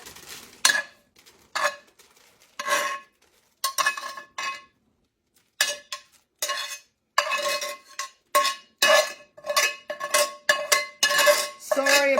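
A spoon stirs fried sausage in a pot, scraping and clinking against the metal in repeated short bursts separated by brief pauses, close and fairly loud.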